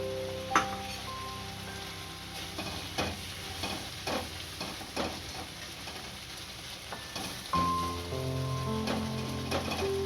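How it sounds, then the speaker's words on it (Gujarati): Yogurt-based gravy of dahi gathiya shaak simmering in a pot, a faint, soft bubbling and popping with a few light clinks, quiet and steady throughout. "હવે ઉકળવા દઈશું એટલે ગ્રેવી જાડી થઈ જાય"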